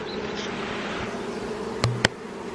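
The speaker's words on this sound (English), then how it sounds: "Now we have 4 times as many bees, so this should be fun. They're very loud right now." Honeybees from newly installed packages hum in a steady, dense drone, with a couple of sharp clicks or taps near the end.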